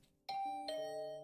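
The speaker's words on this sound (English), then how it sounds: "Was that my doorbell?" A two-tone doorbell chime in the video game The Hundred Line, ding then dong, clear and ringing out briefly in a quiet space.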